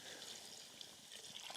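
Water poured from a container into a cooking pot holding beef, flour and a stock cube at a backcountry canoe campsite, heard as a faint, continuous trickling splash.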